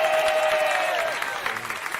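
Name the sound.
audience applause and cheering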